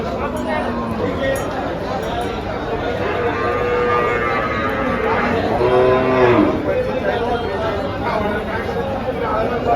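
HF breed dairy cows low and moo at the Dhule cattle market, one drawn-out moo standing out over a steady hubbub of crowd chatter and nearby voices.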